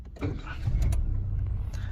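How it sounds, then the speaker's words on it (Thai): A Nissan March engine cranks and catches after the brake is pressed, then settles into a steady low idle rumble, close by. "เยียบเบรกสตาร์ทเครื่องครับ"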